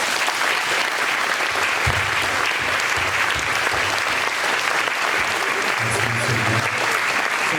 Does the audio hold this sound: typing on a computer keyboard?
no